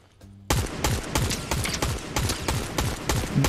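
Rapid bursts of Fortnite gunfire erupt after a brief quiet start, loud and close, with repeated sharp shots in an uneven automatic rhythm lasting about three seconds.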